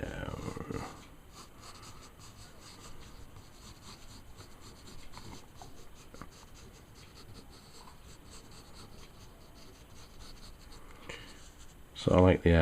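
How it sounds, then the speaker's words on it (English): A pencil sketches on paper in steady, soft scratching strokes that run throughout, close and quiet, with a brief louder burst of other sound at the end. "So I'm just going to sketch something."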